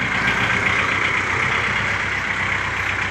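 A farm tractor in Thailand, being hitched to a trailer for hauling baled straw, runs steadily with a continuous, fairly loud engine drone and no talking.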